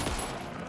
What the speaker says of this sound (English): I am shooting this Shadow Man